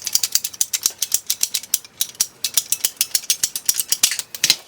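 A ratcheting PVC pipe cutter clicks rapidly through plastic water pipe in a garage, about twenty crisp, close, evenly paced clicks with a brief pause midway.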